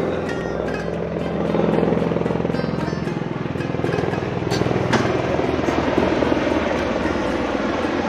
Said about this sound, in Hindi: यहाँ पे देख रहे हैं हेलीकॉप्टर आ रहा है